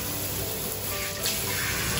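Water runs steadily from a tap or shower as a dog is washed, a continuous gushing hiss that swells slightly near the end, with no talk.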